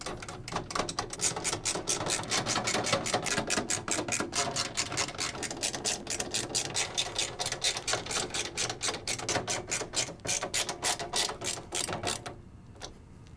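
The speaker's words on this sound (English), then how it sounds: "Secure the motherboard to the case using the provided standoff screws." Motherboard standoff screws being driven into a PC case for a Z270 build, heard as a fast, even run of close mechanical clicks like a ratcheting driver that continues for about twelve seconds and then stops.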